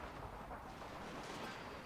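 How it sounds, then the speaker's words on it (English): Artillery fire in Total War: Fall of the Samurai, a dense, low rumbling barrage of distant booms rolling continuously without a break. "I want the artillery to focus on this side."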